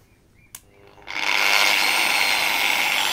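DeWalt angle grinder at speed one spins up after a faint click, settling into a steady loud high-pitched whine that holds to the end, close by with no talk.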